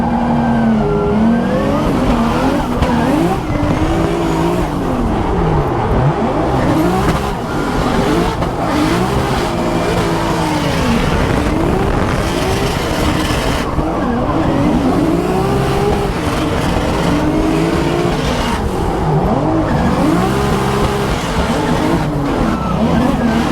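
Formula Drift car on a competition run, engine screaming and bouncing through rev changes with continuous tire squeal and skidding, loud and close throughout.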